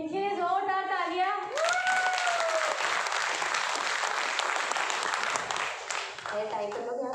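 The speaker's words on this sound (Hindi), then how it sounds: "इनके लिए जोरदार तालियां" Loud applause from an audience at an indoor training session, a dense burst of clapping lasting several seconds after a voice speaks and before another voice resumes at the end.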